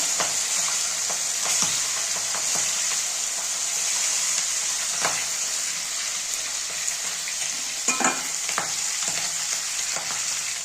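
Rupchanda fish frying in hot oil, with a constant crackling sizzle and scattered clicks and scrapes of a utensil against the pan, clearest around the middle and near the end.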